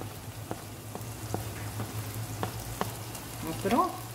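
Chili powder and spices fry in a pan with sautéed tomatoes for a prawn gravy, giving a steady soft sizzle broken by a few sharp taps and clinks of stirring.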